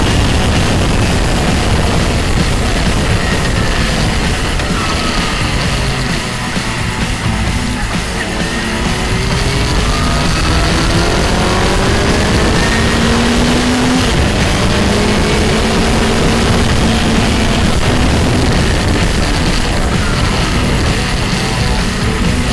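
A motorcycle engine is held to low revs during break-in, ahead of a track weekend at Croix-en-Ternois. It makes a steady, loud broadband drone with gently rising and falling tones throughout, and no voices are heard.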